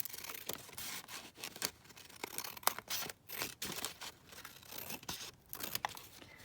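Paper from a 12x12 craft paper pad being cut and trimmed for an accordion book: a close, quiet run of crisp snipping, tearing and crinkling strokes in an irregular rhythm, with no talking.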